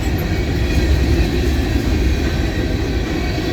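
Freight cars, among them a BN grain hopper and other fallen-flag rolling stock, rumble steadily past at close range, a continuous heavy roll with faint rhythmic wheel clatter over rail joints.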